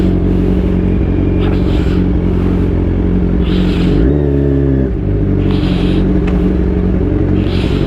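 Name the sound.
Kawasaki Z1000 motorcycle engine revving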